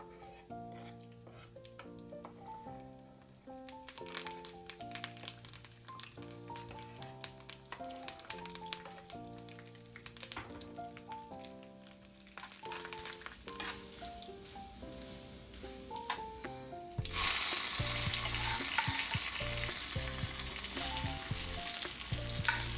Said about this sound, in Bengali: ফোড়নের এই যে আওয়াজটা এত ভালো লাগে